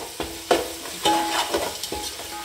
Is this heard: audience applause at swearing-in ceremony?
no